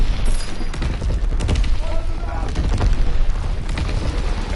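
Dense, continuous gunfire from regular shotgun shells in the video game Call of Duty: WWII, loud rapid booms and blasts packed together with a voice talking faintly underneath.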